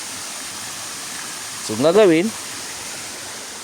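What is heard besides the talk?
flowing water stream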